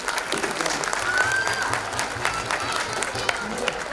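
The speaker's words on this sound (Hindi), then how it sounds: "इन सब बच्चों के लिए तालियां" Applause from an audience for a group of children at a children's values camp, steady dense clapping throughout at moderate distance, with a faint tonal whistle-like sound partway through.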